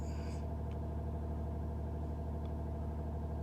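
A 2008 Mercedes C320 CDI diesel engine runs with a steady, low, droning rumble and a strong harmonic hum, held constant without obvious rise or fall; the car has a juddering fault under hard acceleration.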